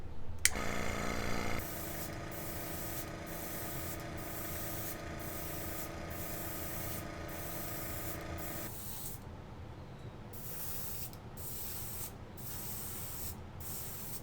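Primer sprayed from an aerosol spray can onto a Tron lightcycle baton prop, a long continuous hiss followed by a run of short rhythmic bursts, close up with no talking.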